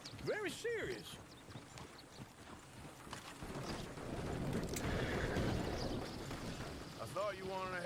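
In Red Dead Redemption 2, horses whinny loudly at the start and again at the end, with a rumbling wash of hooves and commotion building through the middle.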